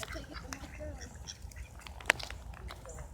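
Ducks quack in short bursts near a pond where people are feeding them, with one sharp, loud call standing out among fainter calls while people talk close by.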